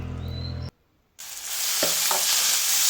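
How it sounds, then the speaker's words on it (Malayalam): Mustard seeds and curry leaves sautéing in oil in a pan: a brief sizzle cuts to near silence, then returns as a louder, steady close hiss with a couple of scraping stirs. "അപ്പോഴേ ഞാൻ എണ്ണ ഒഴിച്ച് കടുകിട്ട് കറിവേപ്പിലയിട്ട് ഒന്ന് വഴറ്റിയ ശേഷം"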